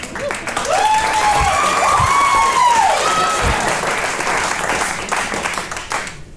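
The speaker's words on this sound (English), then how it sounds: "I don't need your pity claps." A comedy club audience breaks into sustained applause, a dense wash of many hands clapping with some whoops and crowd noise, loud and close, lasting several seconds before tapering off.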